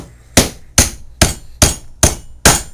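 Six sharp, evenly spaced hammer blows drive a nail into a flange, each a loud metallic strike with a short ringing decay in a quiet room.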